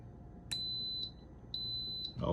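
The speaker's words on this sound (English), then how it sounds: "Wait for it to beep." An Instant Pot pressure cooker, lid on and vent closed, sounds two steady high-pitched electronic beeps, each about half a second long and evenly spaced, clear over a low background hum.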